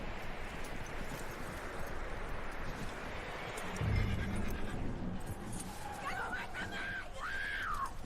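A horse in Red Dead Redemption 2 gives a high, wavering neigh near the end, over a dense bed of game ambience and hoofbeats, with voices talking.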